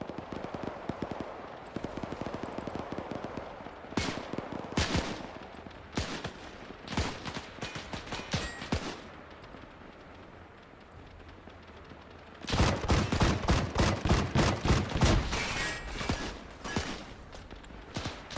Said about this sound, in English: they're starting to fire